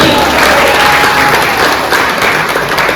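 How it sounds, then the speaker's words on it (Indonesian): An audience at a Hindu religious talk breaks into applause, a loud, continuous sheet of many hands clapping that fills the short moment without speech. "Tepuk tangan dulu untuk ini"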